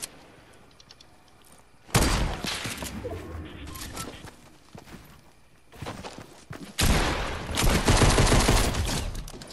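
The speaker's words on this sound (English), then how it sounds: "I'm getting sniped at by his buddy" Gunfire in the video game Fortnite, with a couple of loud, dense bursts of shots and impacts that are sustained for several seconds each, separated by quieter gameplay sound.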